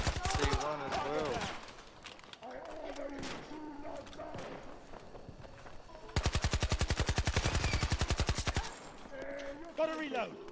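Automatic weapons fire in a Battlefield 2042 multiplayer match, with scattered shots early on, then a loud rapid burst of evenly spaced rounds lasting a couple of seconds, while a player talks over the action.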